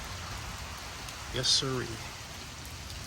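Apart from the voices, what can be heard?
rain falling during a severe thunderstorm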